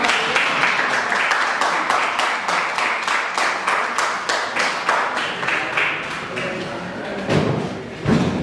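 An audience at a poetry tribute event applauds poet Miguel Lassen, with steady, rhythmic, close clapping in unison that runs throughout and swells slightly near the end.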